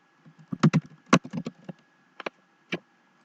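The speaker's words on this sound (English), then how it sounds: "And now I'm typing in here." Keys tapped on a laptop keyboard while entering a username and password, a sparse run of about a dozen crisp, close clicks in small bursts with short pauses between them.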